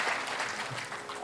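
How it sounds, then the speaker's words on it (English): A lecture audience breaks into a short burst of applause, a dense patter of many hands clapping at moderate level, heard briefly and alone. "Can we have a big round of applause?"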